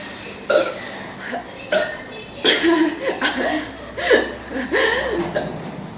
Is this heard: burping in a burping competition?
yes